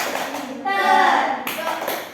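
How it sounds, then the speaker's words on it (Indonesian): Children in a classroom do a patterned rhythmic clap chant led by a teacher, a brief burst of group clapping mixed with young voices, loud and close, ending quickly. "Tepuk dokter."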